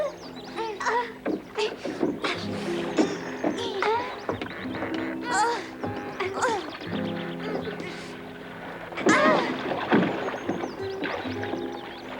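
A small rowboat being pushed along and moving through water, with splashing and gurgling knocks throughout, joined by quacking and people talking over it.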